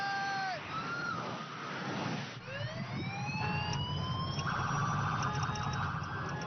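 Police-style sirens wail from cars driving with sirens on, several rising and falling tones overlapping loudly and continuously.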